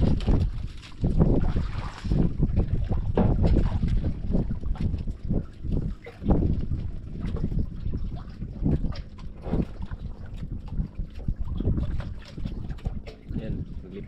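A boat moving on water, heard close with heavy wind buffeting the microphone and a low rumbling wash, while people talk over it throughout.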